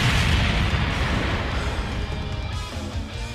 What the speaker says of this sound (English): Before Ganon gets away with the Triforce, Link smacks a bomb right into Ganon's rock hidey hole thing and completely blows it up.